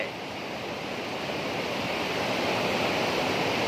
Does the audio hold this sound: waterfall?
yes